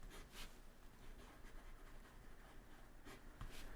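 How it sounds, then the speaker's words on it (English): A Montblanc Meisterstück 149 fountain pen nib from The Origin Collection scratching across paper in a few quiet, feedback-rich strokes, faint and close, with no voice. "let's see how this magnificent pen writes"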